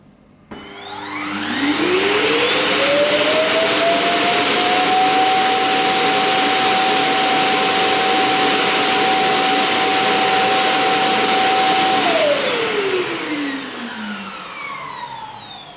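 A Lenovo T1 Pro robot vacuum dock empties its dust bin with a powerful suction whine that spins up, holds a steady loud roar for about ten seconds, then winds down.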